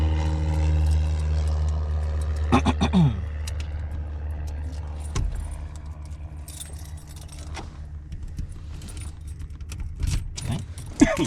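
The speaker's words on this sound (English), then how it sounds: "I have the keys. I'm putting that in the ignition." Car keys jangle and clink as they go into the ignition. A steady engine or vehicle hum runs underneath, with scattered metallic rattles and a few soft knocks.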